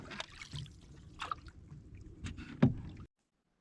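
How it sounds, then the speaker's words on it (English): Canoe paddled across a quiet pond, with soft paddle strokes and light water trickles and dribbles, close but faint, with a single louder knock near the end. "Stephanie, how many miles do you think we've paddled?"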